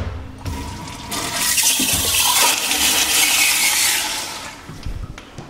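A Sloan flush-valve toilet in a public restroom flushes with a sudden loud rushing surge of water that holds strongly for a few seconds, then tapers off into gurgling refill sounds nearby.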